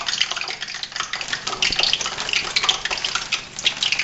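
Breaded okra drops into hot oil and sizzles with a loud, steady crackling hiss, close by and continuous, with no voices.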